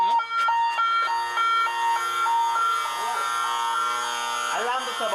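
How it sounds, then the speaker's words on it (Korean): A loud electronic alarm rings at an eel farm in repeated piercing beeping tones, with a faint voice briefly underneath near the end. "집안이 떠나가라고 울리는 알람음"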